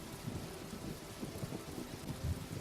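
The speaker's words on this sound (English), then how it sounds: "Look at the rain, Marshall." Steady rain falls on a road during a downpour, a constant hiss of drops with low rumbling underneath, no voices heard.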